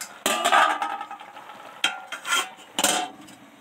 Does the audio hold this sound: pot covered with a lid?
yes